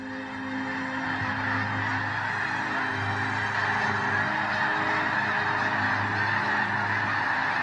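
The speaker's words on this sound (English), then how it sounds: "Birds are among the most captivating creatures on Earth." A dense flock of geese honks continuously, loud overlapping calls forming a steady wall of sound with no talking.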